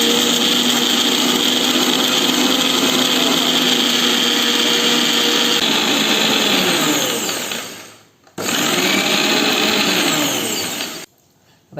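A mixer grinder whirs loudly as it blends eggless, oil-free mayonnaise in its jar, a steady motor drone that winds down, starts again briefly, then stops.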